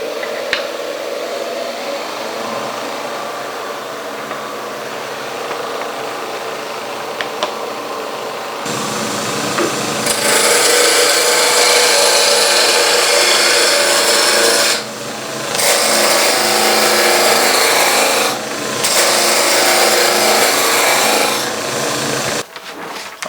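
Wood turning on a lathe: a loud, continuous rasping roar as the tool cuts spinning wood, building up after a quieter stretch and broken by brief pauses.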